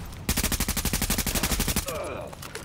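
Rapid automatic gunfire in The Division video game, with one steady burst of about fifteen evenly spaced shots, loud and close, cutting off into softer ricochet-like whines and faint movement.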